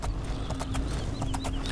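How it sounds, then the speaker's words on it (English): Horse hooves clip-clop in the Oblivion video game, a quick run of evenly spaced hoof strikes at moderate loudness over a steady low background hum, with no voices. "You stop hitting my horse?"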